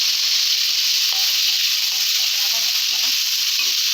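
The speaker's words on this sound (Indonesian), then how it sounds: "ini bumbunya kita masukkan ke dalam minyak goreng udah panas ya teman-teman ya" Spice paste frying in hot cooking oil for a spicy fried patin catfish dish, giving a loud, steady, dense sizzle that runs unbroken for the whole stretch, with faint clinks and stirring in the background.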